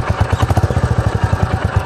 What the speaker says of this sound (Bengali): রেভ করলে কিন্তু আরও সুন্দর একটা এক্সস্ট নোট প্রোভাইড করে